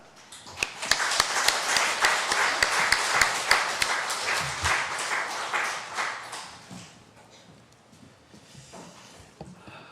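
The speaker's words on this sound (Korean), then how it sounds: "우리 나오실 때 뜨겁게 박수로 환영하겠습니다" A church congregation at a Sunday service claps warmly to welcome a missionary, a dense burst of applause that builds quickly, holds, then thins and fades out over several seconds.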